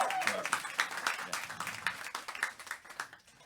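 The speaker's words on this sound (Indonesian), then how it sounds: "Ya, tepuk tangan." Scattered hand clapping from a small group greets someone shown a 30-year Satya Lencana Karya service medal. It is moderately loud and uneven, thinning out toward the end, with some voices mixed in.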